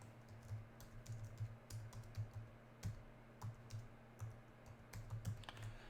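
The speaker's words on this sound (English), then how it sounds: "I'm supposed to be typing over here." Quiet typing on a computer keyboard, irregular key clicks scattered across the stretch with a steady low hum underneath, no talking.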